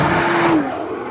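A 2013 Nissan GT-R Black Edition roars hard off the line in an aggressive launch, the loud engine note rising briefly before dropping away as the car pulls off.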